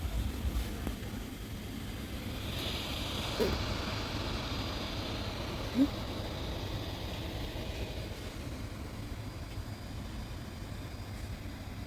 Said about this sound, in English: So that's why the fan is making a noise.